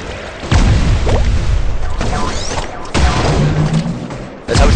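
Bombs exploding in the online game Bubble Fighter, heard as a loud, busy run of thumping bursts and booms with sharp onsets, several close together and a final hit at the end.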